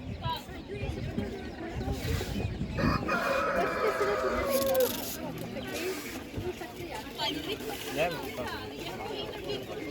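Chickens cluck and a rooster crows amid a busy crowd at a Ukrainian animal market, with people chattering throughout in a noisy open-air setting.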